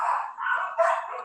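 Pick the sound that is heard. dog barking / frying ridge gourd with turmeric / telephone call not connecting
dog barking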